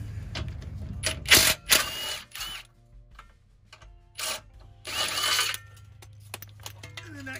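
Bolts being removed with an 18 mm socket from the transmission cross member and frame rails of a 2.0-powered Jeep Wrangler, heard as loud ratcheting bursts and metallic clicks in separate clusters, with no talk.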